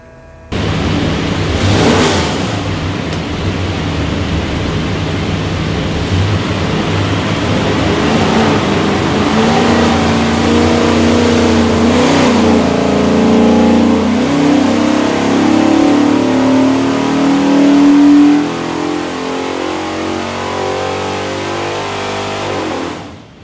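A 408ci Windsor Ford V8 with manifold, distributor and carburetor revs loudly on an engine dyno, holding a steady roar that climbs in pitch through a long pull before dropping off near the end.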